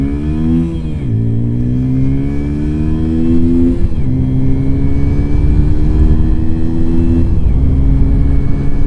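A Sinnis Apache SM 125 motorcycle accelerates hard from a standstill toward 60, its loud, close engine climbing steadily in pitch through each gear with brief dips at the shifts, and no voice over it.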